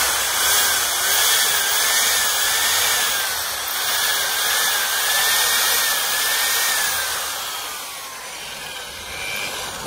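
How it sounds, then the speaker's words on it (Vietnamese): An electric drill bores out a broken bolt, a loud, steady high whine with shifting pitch as the bit bites and eases, close up and continuous, fading slightly near the end. "bây giờ mình sẽ tiếp tục mình khoan mấy anh đây các bạn"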